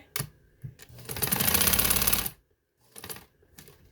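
A sewing machine runs in a short, steady burst of rapid stitching for about a second, close and clear, with a few light clicks before and after.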